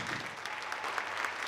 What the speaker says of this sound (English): Another round of applause for our amazing MCs.